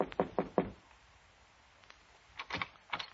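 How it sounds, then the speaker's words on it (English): Three sharp knocks land on an office door in a quick even rhythm, then a quieter pause before a few softer knocks follow, close and clear with no voices. "so I knocked on the door."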